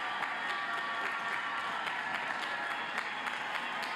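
A large audience at a spring university commencement ceremony applauds continuously, a steady, even wash of many hands clapping with no pause, heard from within a big hall.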